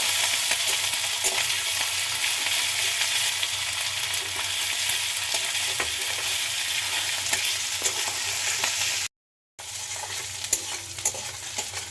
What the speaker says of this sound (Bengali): দিয়ে দিচ্ছি গ্রেট করে রাখা আদা। দিয়ে নিয়ে নাড়িয়ে নেব।